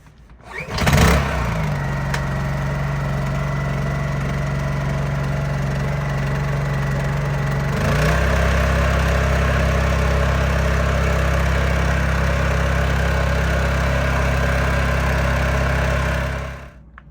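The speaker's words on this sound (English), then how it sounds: "So I think I will run the generator" A boat's generator runs steadily while the vessel sails toward Norway and Svalbard, a close, loud low engine drone that starts abruptly, holds a constant hum, then shifts to a deeper, fuller tone partway through before cutting off.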